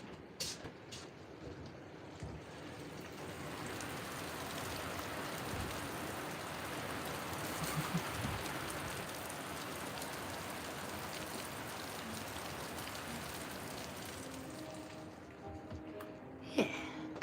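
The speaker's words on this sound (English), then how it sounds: "It's pouring." Heavy rain pours outside, heard through a window, as a steady, dense hiss of falling water and drops on surfaces that continues unbroken.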